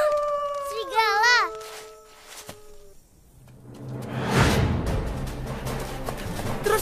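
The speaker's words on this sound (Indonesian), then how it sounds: "Serigala!" Wolves in an animated Indonesian film give a single long, wavering howl up close, then a brief thump and a swell of rushing, noisy action sound.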